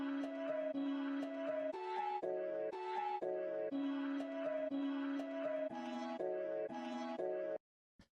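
A chopped music loop sample plays dry without effects, a steady rhythmic sequence of short melodic segments with repeated note patterns, clear and continuous, cutting off abruptly near the end.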